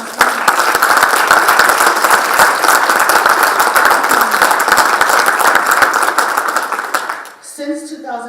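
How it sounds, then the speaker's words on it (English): A conference audience at a local government innovation event breaks into loud, dense applause that holds for about seven seconds before cutting off into a voice speaking. "So let's give a round of applause to all of our winners from last year."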